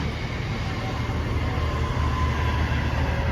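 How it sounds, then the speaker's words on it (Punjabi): A train rumbles past close by, a loud, steady roar of wheels and heavy low rumble that fills the whole moment. "ਉਹ ਟ੍ਰੇਨਾਂ ਕੀ ਟ੍ਰੇਨ ਟ੍ਰੇਨ ਟ੍ਰੇਨ"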